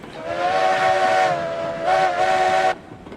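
Steam locomotive whistle in the railway game RailRoads Online: two loud, sustained blasts, a long one then a shorter one after a brief pause, heard alone and close.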